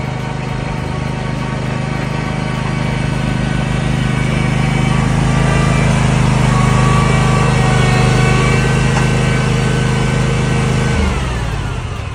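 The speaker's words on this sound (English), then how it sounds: "I got me a mower." A zero-turn lawnmower engine runs close and loud at a steady idle hum, then drops in pitch near the end as it begins shutting down.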